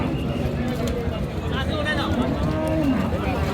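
Beef cattle at the crowded Raniganj livestock market in Dinajpur, with low moos from nearby animals under steady crowd chatter and someone speaking.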